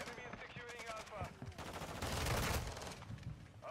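M4 rifle in Call of Duty: Modern Warfare II firing rapid automatic bursts with dense, continuous crackling shots, loud and up close, mixed with game sounds and faint talk.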